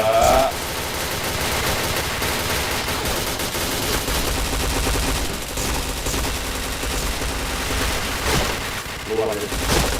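Rapid gunfire and headshot effects from the PointBlank shooter game, dense and continuous bursts over steady game music, with a voice talking over the action.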